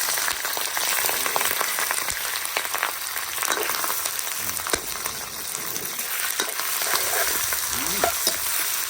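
Bandicoot rat meat stir-fries in oil over low heat, giving a dense, continuous sizzle and crackle broken by occasional scraping stirs, heard close and alone.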